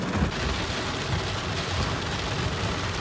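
Rain starting to fall around a cab in Hong Kong, a steady, even hiss of drops with low rumbling underneath, constant throughout with no voices.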